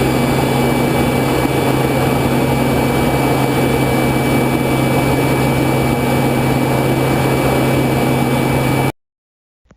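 The jet engine of a U-2 spy plane flying at 70,000 feet drones as a steady, loud roar with a constant hum. It runs unbroken and then cuts off abruptly near the end.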